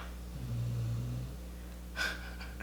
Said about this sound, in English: She's snoring like she's had a hard day.